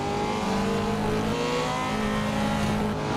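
Engine of a car in a driving simulator game holding a steady revving drone throughout, dense and constant at moderate loudness, no voices over it.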